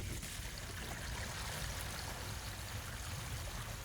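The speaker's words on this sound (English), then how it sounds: "we're going to go ahead and flush it out again" Water rushes through an RV black water tank during a flush, a steady, dense gushing stream that holds an even level throughout, faint and without speech.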